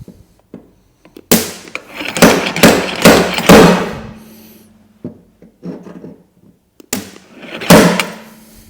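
A hammer taps out a dent in car body metal in short bursts of sharp strikes, several clustered hits followed by pauses, with a faint ringing hum between them.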